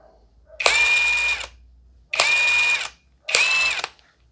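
A ProEuro impact wrench set to its lowest torque fires three separate bursts of close, loud, rattling hammering, each lasting under a second, with brief quiet gaps between them.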